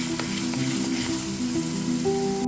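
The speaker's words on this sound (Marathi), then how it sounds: "यावर टाकली लसूण, आलं आणि जी कोथिंबीरीची पेस्ट केलेली आहे ती घालून घ्यायची आणि आता 2 ते 3 मिनिटं हे परत छान परतून घ्यायचं" A paste of garlic, ginger and coriander sautéing in oil in a pan, giving a loud, continuous close sizzle with faint steady tones underneath.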